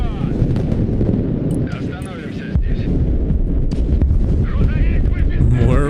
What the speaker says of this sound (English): More rockets coming in.